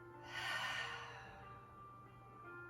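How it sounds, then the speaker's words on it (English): A single long exhale through an open mouth during a yoga flow, a soft breathy rush that swells and then fades, close and quiet, with no talking. "Open your mouth and exhale"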